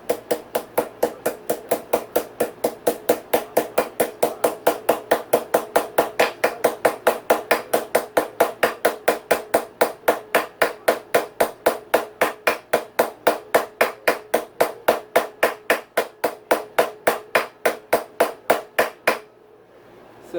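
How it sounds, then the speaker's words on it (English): A hammer knocks a frozen steering stem bearing onto a dirt bike's stem, dozens of sharp metallic blows in a fast, even rhythm, loud and close, stopping abruptly near the end. "I'm going to hit it with a hammer."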